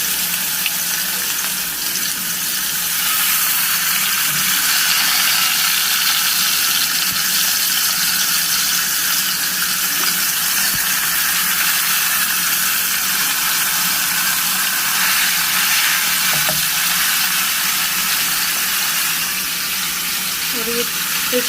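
Chicken tikka pieces go one by one into hot oil in a frying pan, giving a loud, continuous broadband sizzle that runs steadily for the whole stretch with no pauses.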